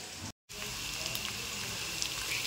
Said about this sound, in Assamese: মছলাখিনি আৰু ভাজি থাকিম